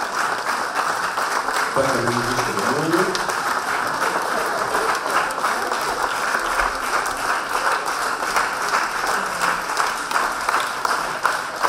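An audience applauds at the unveiling of a Tyrš monument, with steady, dense clapping that lasts throughout. Someone speaks a few words briefly early on beneath the continuous applause.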